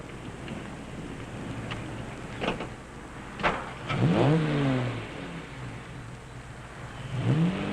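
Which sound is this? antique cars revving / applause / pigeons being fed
antique cars revving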